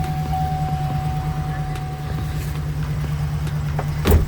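A car engine runs steadily at idle with a low, constant hum, close by, ending in a brief louder thump near the finish.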